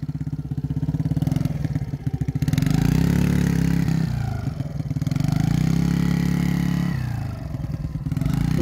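A Yamaha YFZ50 quad's exhaust roars up close while it is ridden, with the engine revving up and easing off in repeated surges and holding a loud, steady drone between them.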